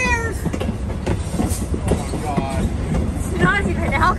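A scenic passenger train rolls along with a steady rumble and rattling carriage noise close around, while people chat over it.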